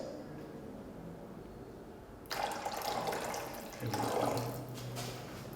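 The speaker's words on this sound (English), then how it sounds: "We are adding 100 grams of vinegar, and it has already been weighed up to the requirement." Vinegar, 100 grams pre-weighed, poured into a chili sauce base, giving a steady splashing pour that swells at about 2.2 seconds and again near 3.9 seconds, with no talk.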